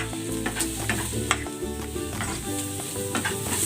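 Hotdogs go into a pan already seasoned with pepper and sizzle loudly and steadily, with scraping stirring strokes running through the continuous frying hiss.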